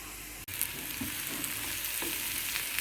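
Chicken liver fries in a pan with a steady, loud, close sizzle, broken by a brief drop, while a utensil turns the pieces now and then with soft scrapes.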